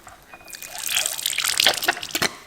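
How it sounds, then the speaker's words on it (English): Water pours into a gold pan holding black sand, a close trickling and splashing that swells in the middle and tapers off with a few final drips. "Add a little water."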